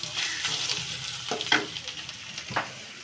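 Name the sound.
dried shrimp frying with onion in a pan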